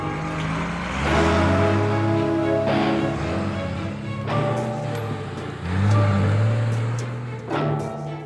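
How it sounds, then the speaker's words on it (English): A truck convoy carrying a giant crocodile pulls away, its engines rumbling steadily and swelling in a few revving surges as the heavy vehicles get underway. "The convoy transporting the giant crocodile sets out"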